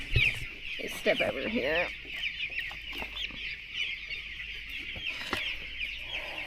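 Several chicks cluck and chatter nearby in a steady, busy flock in a whole-housing poultry barn, with a person briefly speaking over them.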